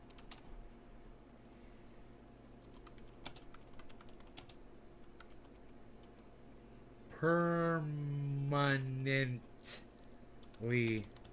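Typing on a computer keyboard: soft, irregular key clicks tap along at a moderate distance for several seconds, then a person talks over the last part.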